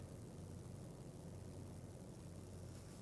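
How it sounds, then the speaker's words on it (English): A deep, steady roaring drone from bombs in a video game, low and rumbling, continuous and faint throughout. "I love the sound when you fly near these bombs"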